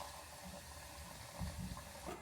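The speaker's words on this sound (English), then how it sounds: "Pour in some hot water." Hot water poured from a kettle into a thick cottage pie mince mixture with stock, a steady splashing pour that swells briefly midway, heard alone at close range.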